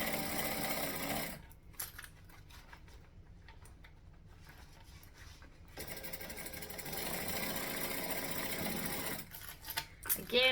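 Home sewing machine stitching a garment, a Hacked Vixen pattern, with a steady mechanical whir that runs in stretches, stopping briefly and starting again, close and fairly loud.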